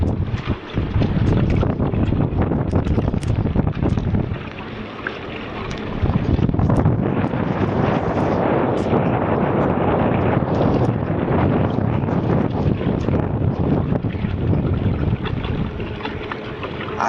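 Strong storm wind roars over a small fishing boat at sea, a loud, continuous buffeting rush that dips briefly near the middle and then returns at full force.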